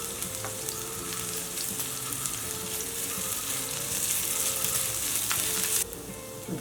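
Finely chopped green chili and grated ginger fry in a spoonful of hot oil, giving a steady, close, continuous sizzle with light crackles and no talking.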